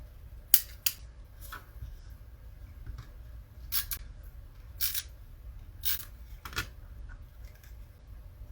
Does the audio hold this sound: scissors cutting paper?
yes